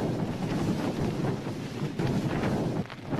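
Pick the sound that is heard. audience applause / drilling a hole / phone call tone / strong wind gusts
strong wind gusts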